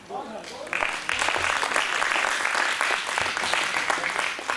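Audience applause at a cultural academy programme on Dogri short stories, a dense, steady clapping from a seated crowd that swells after a brief pause and continues evenly, fairly close, with faint voices beneath.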